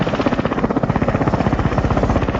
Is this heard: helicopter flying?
yes